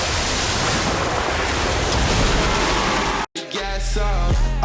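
An orb of water spell cast in a Harry Potter wizard duelling game roars as a dense, loud rush of splashing water. It cuts off abruptly into a quieter stretch of game effects.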